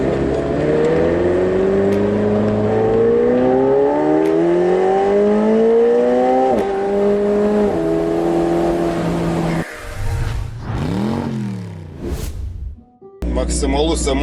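A 2024 McLaren 750S Spider supercar accelerates hard, its engine climbing loudly through rising revs with quick gear changes, then cutting out with pops and a final burst, under brief speech.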